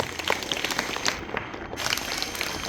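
An audience at a school gathering claps in a dense, steady burst of applause lasting a few seconds.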